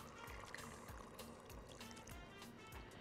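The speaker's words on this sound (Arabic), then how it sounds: "وهحط معاها نص كوبايه ميه، نص كوبايه ميه" Half a cup of water trickles quietly into an aluminium tray of tilapia fish with lemon peel, a soft, steady pour lasting a few seconds.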